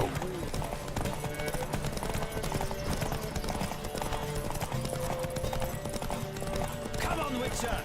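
Rapid clip-clop of horse hooves galloping in a race in the video game The Witcher 3, under a busy, loud mix of music and effects, with an occasional whinny.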